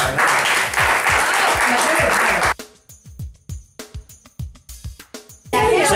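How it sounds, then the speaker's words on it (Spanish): An audience gives loud, dense applause for a couple of seconds. Thumping beats follow, then the applause swells again at the end. "Nos vamos con un fuerte aplauso"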